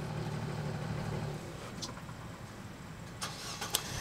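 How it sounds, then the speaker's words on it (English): A car engine idles steadily with a low rumble through the first part, then fades into quieter background hum with a few faint clicks and knocks near the end. "I still got my car running."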